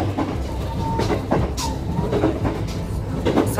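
A train pulls into Kasumi station in Japan, a steady loud rumble of wheels and carriage noise with rhythmic clacks and brief squeals.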